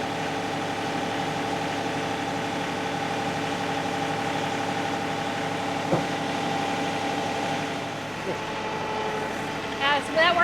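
A vehicle creeping slowly through a tight gap with little clearance, its engine idling low and steady throughout, with a brief knock midway and a short burst of other sound near the end.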